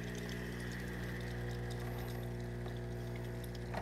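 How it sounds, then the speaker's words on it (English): A Breville espresso machine pulls a dummy shot, a steady mechanical hum and pump drone with a faint watery trickle, continuous and close, with a brief clunk right at the end. "Do some dummy shots here."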